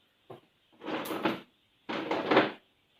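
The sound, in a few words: workshop drawer opened to get clamps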